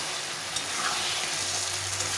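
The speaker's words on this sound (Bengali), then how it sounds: "এইভাবে করে ভালো করে কষিয়ে নিতে হবে।" Spice paste sizzling and frying steadily in a pan for a Bengali katla fish curry, stirred continuously, close and even with no talk.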